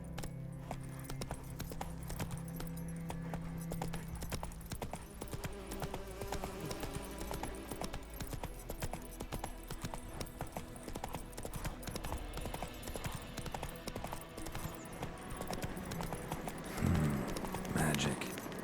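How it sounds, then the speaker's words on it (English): The horse Roach gallops in The Witcher 3 video game, its hooves clip-clopping in a steady rhythm over the whole stretch, fairly faint, with game ambience and a voice speaking over it. "Run, Roach."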